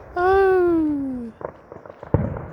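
Fireworks explode outdoors as a voice lets out a long, falling exclamation, followed by a couple of sharp, sudden pops and a final louder bang.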